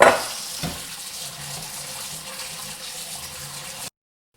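Soaked almonds rinsed under a running tap: a steady broadband wash of water with a brief clatter near the start, continuous and close until it cuts off abruptly near the end.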